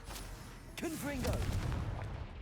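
Fire spell blast in the Hogwarts Legacy video game: a burst of booming, gunfire-like impact noise alongside a short rising-and-falling tonal whoosh, mixed into busy game sound.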